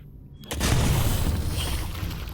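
A grenade in Half-Life: Alyx goes off with a sudden loud boom followed by a long roaring, rumbling decay that fills the rest of the moment.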